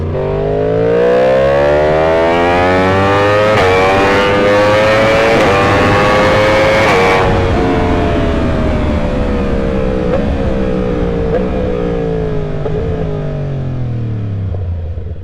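A Yamaha motorcycle on a race track revs and accelerates hard through gears, a loud rising and falling engine whine with several shift points, passing close and then fading slightly.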